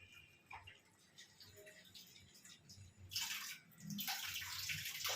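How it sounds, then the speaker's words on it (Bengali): Water is poured into a pan of chicken curry on the stove, starting as soft trickles and splashes and then swelling into a louder, steady rushing pour in the second half. "একটু জল দিয়ে দিলাম।"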